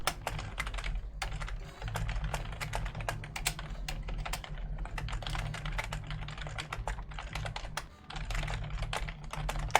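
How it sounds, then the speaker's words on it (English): Someone types a quick message on a computer keyboard during a computer game session, producing close, quick, irregular clacking key taps that continue for about ten seconds without any talking. "Sorry, typing out a quick message."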